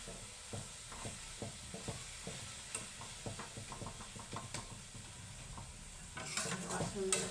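A coconut mixture roasts in a pan for coconut burfi while a spoon stirs it in repeated scraping strokes over a soft, continuous sizzle, close and moderately loud.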